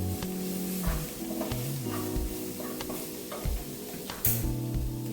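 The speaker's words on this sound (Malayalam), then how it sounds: "ഇതെല്ലാം വഴറ്റി കുറച്ചു നേരം വഴറ്റി നമുക്ക് ഓഫ് ചെയ്ത് വെക്കാം." Tamarind and coriander leaves sizzle while being sautéed and stirred in a pan for Kerala chutney, a steady close frying hiss broken by scraping spoon strokes and light clinks.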